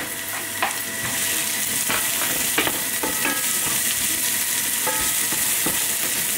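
Onion sizzles loudly and steadily in a hot pan, with scattered clicks and scrapes from stirring over the constant frying hiss. No voices are heard.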